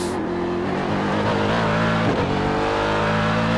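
A race car at Sebring International accelerating out of a corner, its engine note rising steadily as the driver gradually squeezes the throttle, loud and close with a continuous roar.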